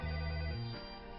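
A household telephone rings in a drama scene, a short electronic two-tone trill that shifts pitch midway and then cuts off, heard alone and moderately loud.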